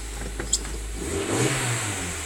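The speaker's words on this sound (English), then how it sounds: "the engine's not knocking or making any horrible noises" Honda CR-V engine running nearby, a smooth, steady, moderately loud hum that rises slightly as it revs, with no knocking or harsh noises and no voices over it.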